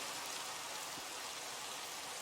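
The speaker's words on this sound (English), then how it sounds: "So let's actually turn on the thunder. Look at that, it's raining." Steady, soft hiss of rain falling in Minecraft during a thunderstorm, a faint, even patter with no voices or other sounds.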